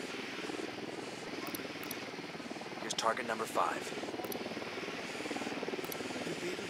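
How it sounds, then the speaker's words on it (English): Small drone hovering in Ghost Recon Wildlands, a steady buzzing rotor whine held throughout under a man's speech, with a couple of brief electronic chirps midway. "deploying drone."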